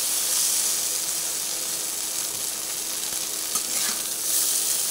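Okra and potatoes fry in oil in a pan, a steady, dense sizzling hiss that holds at an even level throughout, close and with no voices.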